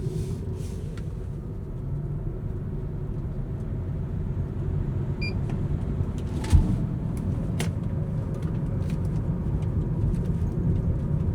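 Car driven during a dry handling tyre test on a track, a continuous low road rumble and engine drone with tyre noise, fairly loud and steady with no talking.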